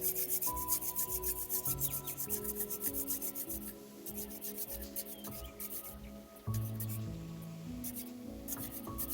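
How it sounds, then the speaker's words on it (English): Two hands rubbed together during a children's meditation session, giving a soft, steady friction sound that continues under gentle background music. "And now rub both of your hands."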